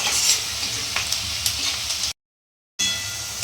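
Onions frying red in a pan with cumin, coriander and chili powders for a bread potato roll snack: a steady close sizzle with faint stirring scrapes, cut by a short silent gap, then sizzling resumes.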